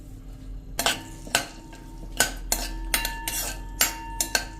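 Almonds and cashews stirred in ghee in a pan over a medium flame, for moong laddu: a close, irregular series of sharp spoon clinks and scrapes against the pan, with no voices.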